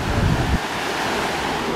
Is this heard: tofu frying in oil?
no